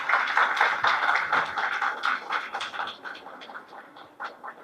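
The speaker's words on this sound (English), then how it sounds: "A big round of applause for all the artists." Applause from a crowd at a calendar launch event, a dense steady patter of many hands clapping that gradually thins and softens toward the end.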